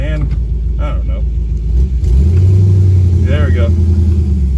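A 1955 Ford Fairlane that has sat unused for a long time idles roughly, then its engine rumbles louder as the car pulls away, with people talking over it.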